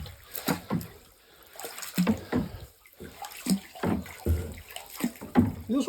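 Water sloshed and stirred by hand in a hot tub being mixed with lots of cold water before use, irregular close splashes and swirling gushes in bursts, with no talk.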